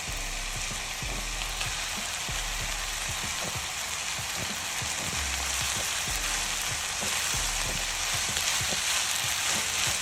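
Rice for Chinese fried rice fries in a hot pan, a steady close sizzle with crackling like rain and occasional soft stirring scrapes, no talking.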